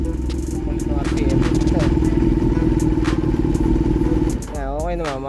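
A Kawasaki ZX6R motorcycle engine under repair runs steadily at idle, a loud continuous drone with clattering mechanical noise, then the tone shifts and wavers near the end as the revs change.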